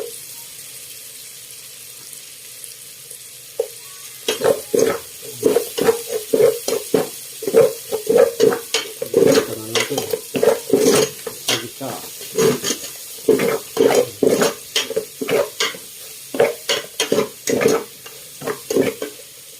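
Ginger tossed and stirred in a pan for Ilocano pakbet, a run of repeated scraping, clattering stirring strokes over a low frying sizzle, close and fairly loud, starting after a few quiet seconds and continuing steadily.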